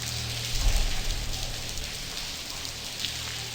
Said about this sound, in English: Hey, let's get out of this rain.